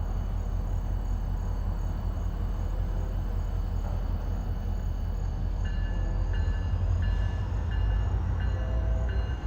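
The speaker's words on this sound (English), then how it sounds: "That E-Bell's got a nice ring to it." A Norfolk Southern locomotive bell rings in a steady repeating pattern over the deep rumble of a train in Chattanooga, Tennessee, starting partway through.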